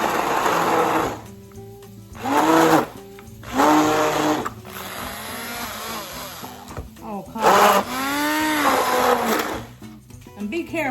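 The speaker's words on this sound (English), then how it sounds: "I'm gonna use this little immersion blender, I think that's what you call it, and I'm just gonna blend for a few seconds" An immersion blender whirs in short bursts through a pot of homemade pizza sauce, loud and close, with a person talking between and over the pulses.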